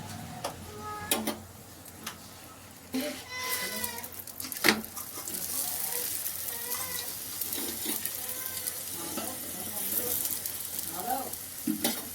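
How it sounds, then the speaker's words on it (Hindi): A cheese paratha fries in ghee on a pan, sizzling steadily with scattered clinks and scraping from a utensil, close and fairly loud throughout. "अभी हमने पलट दिया है, अब हम इस पर डालेंगे घी।"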